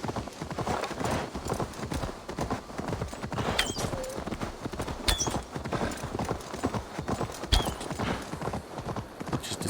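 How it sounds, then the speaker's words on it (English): Horse hooves clip-clop in a quick, steady galloping rhythm in Assassin's Creed Valhalla, close and continuous, with faint game effects in the background. "The horse should not slow down when we're being attacked."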